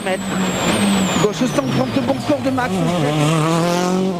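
Rally car at speed on an asphalt stage of the 2007 ADAC Rally Deutschland, engine note rising and falling through gear changes, loud and continuous beneath a commentator's voice.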